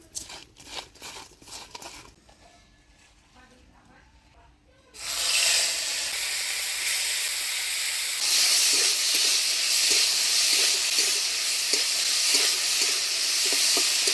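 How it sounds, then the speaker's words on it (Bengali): Small shrimp fry in a pan for shrimp paste, starting with a quiet stretch of faint clinks and stirring before a loud, steady, close sizzle takes over and carries on unbroken with light scraping. "বাটার জন্য আগে চিংড়ি মাছটা ভেজে নেব।"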